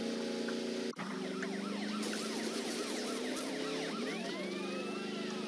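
A police car siren in an old driving video game wails continuously and loudly in rising and falling sweeps, with an engine drone beneath and a brief dropout near the start.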